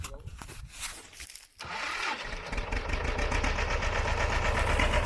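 A farm engine cranks briefly, then catches and settles into a steady, rough mid-pitched running note. The sound is moderately close and carries on without pause.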